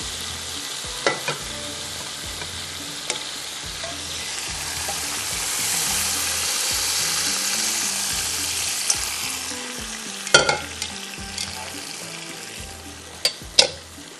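Food frying in a pan while preparing yakhni pulao, a steady close sizzle with occasional stirring clinks and scrapes, no voices.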